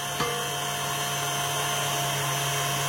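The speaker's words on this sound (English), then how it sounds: "we're going to keep whisking it until a soft peak" An electric whisk runs continuously through eggs and sugar for a chocolate mousse, a steady close motor whine with a small bump near the start, holding level with no pauses or talk.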